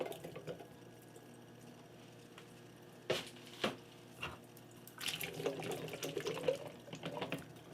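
Canned kidney beans are drained in a kitchen sink: water runs and splashes in short bursts, then a longer spell of pouring and trickling, fairly faint against a quiet room.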